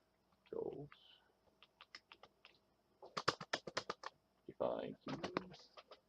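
Computer keyboard keys pressed on a ZX Spectrum while defining game controls, a run of separate clicks and taps in short bursts, broken by spoken remarks at the start and near the end.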